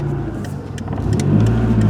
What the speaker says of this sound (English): Ooh, burning up the clutch, whoops.